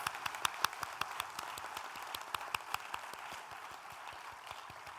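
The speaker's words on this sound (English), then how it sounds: "Let's give them all a big round of applause." Applause from a conference audience in Mumbai, a fairly soft, even spread of clapping from a crowd, with a few sharper individual claps standing out near the front, continuing throughout with no talk.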